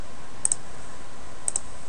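Two quick pairs of sharp, faint computer mouse clicks about a second apart, heard over a steady background hum with no talking.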